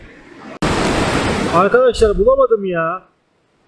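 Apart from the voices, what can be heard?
ocean waves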